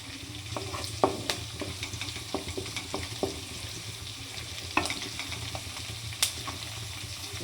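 Onion, green chillies and curry leaves fry in hot oil for a mutton and cucumber curry, a low steady sizzle broken by occasional spoon clinks as the pan is stirred, fairly quiet.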